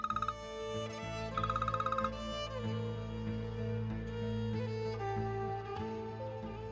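A phone rings with a repeated electronic tone in short bursts, playing over a steady musical background with sustained tones.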